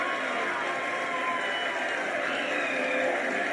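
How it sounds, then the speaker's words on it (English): Crowd at the Chandrayaan 3 moon landing applauding and cheering, a dense steady roar of clapping sustained throughout without pause. "People are applauding."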